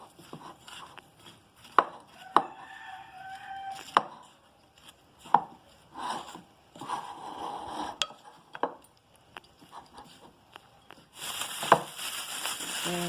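Garlic being grated in a kitchen, with soft rasping strokes broken up by sharp knocks and clinks of utensils against a hard surface, fairly close and quiet.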